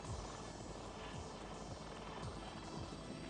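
Military helicopter rotor and engine roar, a loud continuous thudding drone with rhythmic blade chop filling the whole stretch, heard alone.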